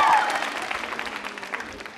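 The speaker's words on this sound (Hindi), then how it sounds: "जोरदार तालियां बजाइए।" Applause from a college quiz-show audience at a women's club New Year event, starting loud with a brief voice at the onset, then thinning out into scattered claps.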